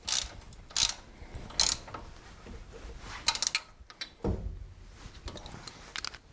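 Ratchet wrench clicking while tightening bolts on the front suspension of a Chevy truck, short bursts of rapid ratcheting separated by pauses, close and moderately loud.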